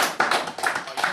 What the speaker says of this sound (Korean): 박수 받는 거